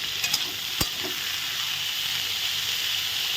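Dhekia fern greens sizzle and hiss steadily in a pan on a gas stove, a constant frying crackle with a few brief sharp clicks near the start.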